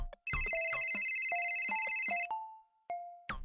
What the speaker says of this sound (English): Your phone will ring and prompt you to record a message.